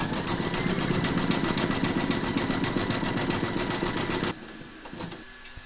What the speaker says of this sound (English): pop your hoop into your machine and stitch round number 12, and that's going to zigzag around the edge of his hat